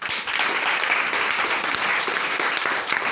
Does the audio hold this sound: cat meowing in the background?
no